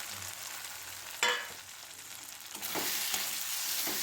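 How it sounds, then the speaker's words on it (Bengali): Prawns frying in masala in a pan, a steady close sizzle with brief louder bursts as they are stirred and turned, no voices. "মশলার সঙ্গে চিংড়িটা আমরা পাঁচ মিনিটের মতো নেড়ে নেব"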